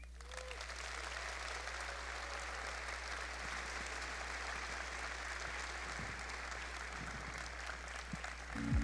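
An audience at a conference opening ceremony applauds in a steady, even wash of clapping that holds at moderate loudness throughout, with a low hum beneath.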